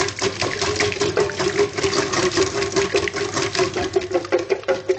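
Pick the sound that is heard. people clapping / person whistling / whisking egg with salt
whisking egg with salt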